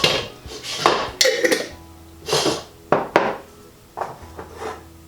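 A pot lid is picked up and handled on a stovetop while vegan three-bean chilli is being prepared. Several loud close metallic clanks and scrapes arrive in short separate bursts, with no talking.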